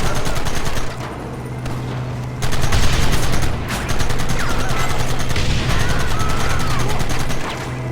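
Sustained gunfire rattles through a Red Dead Redemption shootout: dense bursts of rifle and machine-gun fire, loud and continuous across the whole stretch with brief lulls, over a low rumbling backdrop.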